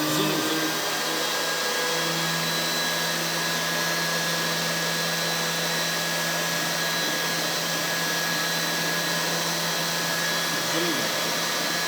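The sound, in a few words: air blower running in a heat transfer lab setup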